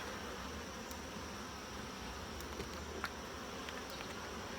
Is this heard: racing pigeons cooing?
no